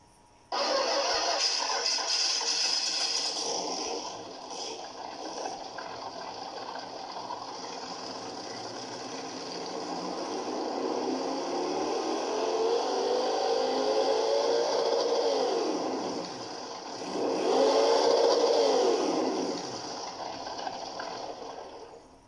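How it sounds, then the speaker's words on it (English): A synthetic engine hum from an RC car sound module on a Tamiya Wild Willy 2 starts abruptly, idles steadily, then revs up and down twice in rising and falling sweeps. "This is the engine sound."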